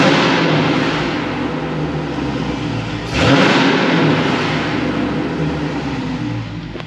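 An engine in a widebody Dodge Challenger idles as a rough, noisy rumble, then surges briefly in a heavier rev about halfway through before easing back to a steady drone.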